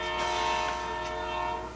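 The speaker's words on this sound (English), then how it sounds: "Train!" A train passes outdoors while its horn sounds in a loud, sustained multi-tone blare, with rail rumble filling the background throughout.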